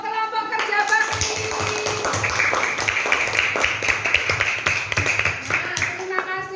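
A primary school class applauds a presenting group with a burst of quick, uneven clapping and tapping from many small hands, while children's voices chatter underneath.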